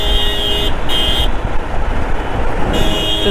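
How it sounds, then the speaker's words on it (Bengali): A vehicle horn honks from behind in heavy road traffic, with two loud blasts near the start and another at the end over a constant engine and traffic roar, close by, no talk. "পিছন দিক থেকে হর্ন মারতে মারতে আসছে।"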